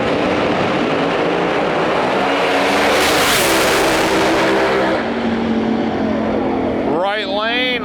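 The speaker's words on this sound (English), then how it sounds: "we got a nitrous Camaro far side of the track, screw-blown Camaro in our lane" Nitrous and screw-blown Camaros launching side by side at a drag race, a loud sustained engine roar filling the air before fading, then rising again as a new engine revs, with an announcer speaking over it.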